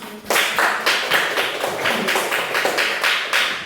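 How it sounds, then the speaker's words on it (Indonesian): Classroom applause from a group of students, steady bright clapping of many hands in a fairly close room, with rhythmic bursts pulsing through the whole clip and no talk. "Dan kita tepuk tangan untuk kita semua."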